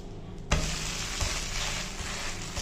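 Dosa batter cooks on a hot tawa with a loud, steady sizzle and crackle that starts abruptly, then holds at close range with small bursts of spatter.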